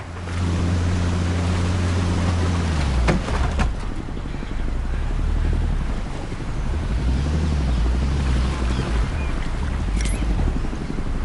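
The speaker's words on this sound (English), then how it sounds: "Pull the boat up to the dock and switch the engine off." A boat's engine idles with a deep, steady hum as it pulls up to a dock in a Vietnam-era video game, dropping away partway through while the low rumble of water and motor continues at a reduced level.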